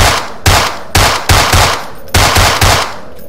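Glock pistol fire in an open-world survival horror game built in Unity, heard as about six loud, close shots in uneven succession, each a sharp crack with a brief decaying tail and no talking.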